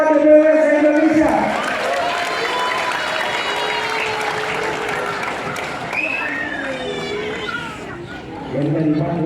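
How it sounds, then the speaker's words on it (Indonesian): A crowd at a national leadership meeting of Indonesian market traders breaks into sustained applause mixed with cheering and chatter, with a voice talking over it at moments. "Kita tepuk tangan untuk Ketua DPW se-Indonesia."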